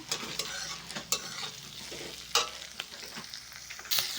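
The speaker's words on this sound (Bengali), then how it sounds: "এখন সব সবজিগুলো আর কি দিয়ে দিলাম দিয়ে আর কি ভেজে নিচ্ছি" Vegetables fry in a pan with a steady near sizzle, broken by sharp scrapes and clatters of stirring at intervals; no voices.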